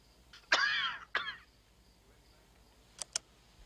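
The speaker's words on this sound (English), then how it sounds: "No. I recognize the cough." A man gives a deep, raspy cough with a throat-clearing quality, then a second shorter cough, followed after a pause by two brief faint sounds in a quiet room.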